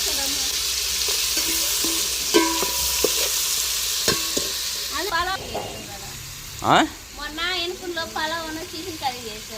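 Food sizzles and fries in a pan while being stirred, with scraping and clinking of a spoon against the pan and a voice talking over the steady hiss.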